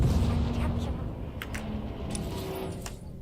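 Starship weapons fire in Star Wars: The Old Republic, with several sharp blasts and booming bursts over a dense, rumbling battle din that gradually eases in loudness.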